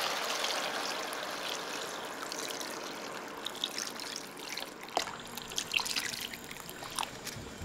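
Chicken broth poured into a hot pot of fried chicken, a steady rushing stream of liquid that gives way to splashing drips and a soft bubbling, close and without talk.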